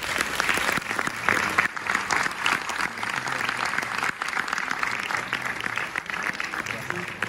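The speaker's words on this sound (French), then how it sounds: "je vais plutôt vous demander d'applaudir et d'accueillir voilà, le réalisateur Vincent Maël Cardona." Cinema audience at a film premiere screening at UGC La Défense applauds to welcome the director, a steady crowd of clapping hands running throughout with faint voices mixed in.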